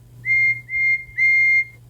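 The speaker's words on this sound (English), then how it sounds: "Whistled Toby." Three short, clear whistle blasts in quick succession, the last slightly longer, bright and fairly close over a faint low rumble.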